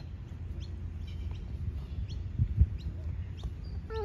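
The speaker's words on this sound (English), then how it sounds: "Oh, there's a bird over here." A small bird chirps in a park, with faint, scattered high calls repeating over a steady low background rumble.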